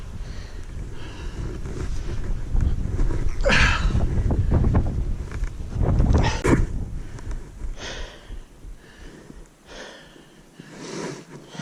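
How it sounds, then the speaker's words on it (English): A westerly wind funnels up a rocky mountainside on Tryfan, buffeting the microphone in loud, gusting rumbles that swell and ease over several seconds. "Got a westerly wind, and it's funneling right up here."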